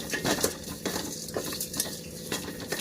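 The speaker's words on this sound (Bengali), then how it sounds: "এখানে বিরিয়ানি মশলাগুলোকে ভেজে নিচ্ছি" Biryani spices fried and stirred in a pan, with repeated metallic scrapes and clinks of a spoon against the pan at an uneven rhythm, close and moderately loud.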